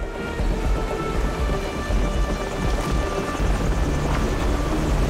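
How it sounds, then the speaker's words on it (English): Enemy helicopters approach in Modern Warfare 2, a dense, continuous rotor rumble mixed with heavy battle noise that stays loud and unbroken throughout. "be advised we've got enemy helos approaching from the northwest and southeast"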